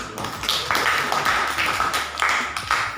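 A classroom audience claps for a student group during a physics lesson, a steady run of dense, mid-loud handclaps with several swelling bursts across the span and no speech over it.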